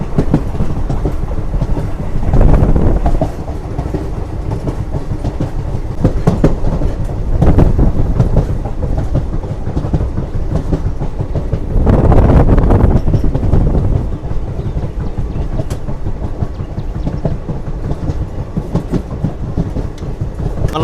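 The Seven Hills SF Express rolls along rails near Mangalampeta toward Tirupati, with a continuous rumble and rhythmic clickety-clack of the wheels, close and loud, with bursts of wind noise across the microphone.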